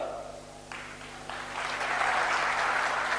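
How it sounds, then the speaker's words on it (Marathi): Audience applause building from scattered claps into steady, full clapping that continues to the end. "तुम्ही टाळ्या का वाजवल्यात मला सांगा"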